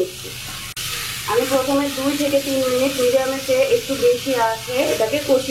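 Chicken pieces fry and are stirred in a pan over medium-high heat for a pocket roll filling, giving a steady close sizzle with scraping, under a voice talking throughout.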